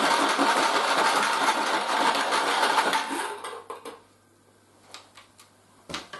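A league draw machine whirs and rattles steadily for about three seconds, then winds down, leaving scattered clicks and knocks over a faint low hum.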